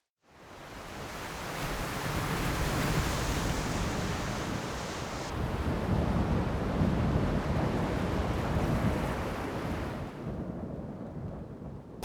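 Heavy ocean waves and strong wind roar on a stormy night off a small island in Chuja-myeon, Jeju, a dense continuous wash of surf and gusts that swells and eases for over ten seconds with no voices.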